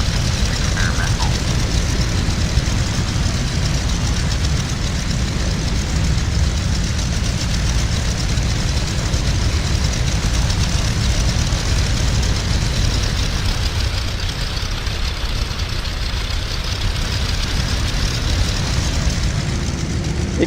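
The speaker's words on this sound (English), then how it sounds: "It can be quite difficult to taxi a tail dragger, especially of this style." A steady, loud, low engine drone from a tail-dragger airplane taxiing in Flight Simulator X. The rumble stays close and unbroken the whole time, with no break in the sound.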